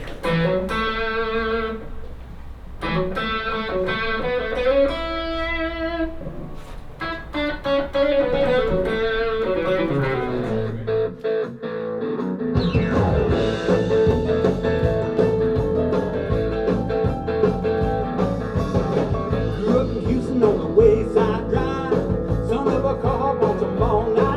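An instrumental solo plays over a full backing track with distorted, effected tones, running continuously at steady loudness with a brief dip near the middle.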